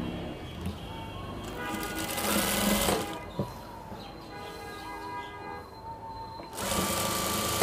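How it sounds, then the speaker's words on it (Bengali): A sewing machine runs a thin seam along a panjabi (kurta) panel, whirring steadily for most of the stretch, dipping briefly in the middle and then surging back louder at the end. "এখন আমি নিচে সেলাই করে দেব, এই যে চিকন সেলাই"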